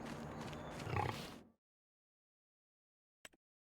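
Pigs grunt and oink in Farming Simulator 25, a dense, noisy burst for about a second and a half, then silence broken by one short grunt near the end.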